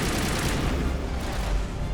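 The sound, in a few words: rockets fired by turret in Mass Effect video game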